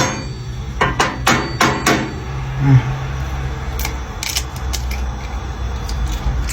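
An egg is cracked for cooking on the stove: a run of sharp, close taps against a hard edge, followed by a brief soft splat and faint clicks over a low background hum.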